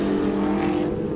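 Race cars at Snetterton circuit roar past in a loud, steady blur of engine noise, the sound holding at full strength throughout with no voices over it.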